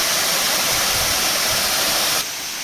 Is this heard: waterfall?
yes